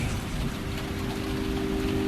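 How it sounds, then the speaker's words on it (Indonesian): Heavy rain pours steadily in a radio drama scene, a dense, continuous hiss that holds close and even for the whole stretch, with a faint low tone running underneath. "Saat itu hujan cukup deras"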